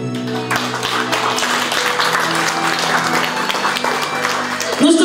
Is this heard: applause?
yes